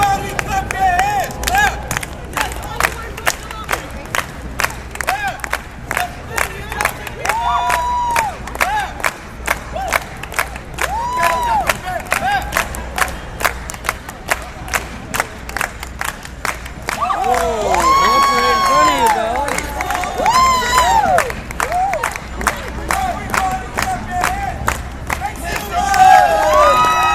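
A lively crowd in Times Square, New York, cheering and shouting with scattered clapping, a dense steady roar of many voices close by that swells louder toward the end.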